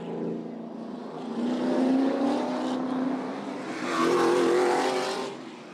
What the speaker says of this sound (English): pace car will go by